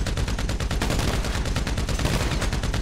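Sustained automatic gunfire in GTA 5 aimed at Sirenhead, a steady, loud, close stream of rapid shots with no pauses.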